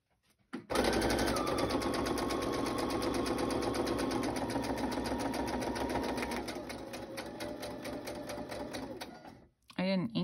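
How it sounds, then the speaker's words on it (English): A sewing machine runs steadily for about nine seconds, stitching around the edge of a book page envelope pocket. Its rapid mechanical chatter is loud and close, its pitch drops partway through, and it stops abruptly at the end. "I'm gonna just take and sew all the way around"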